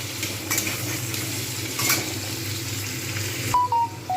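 Ginger garlic paste frying with tomatoes in a pan makes a continuous sizzle with stirring scrapes, plus a few brief clinks and short tonal beeps near the end.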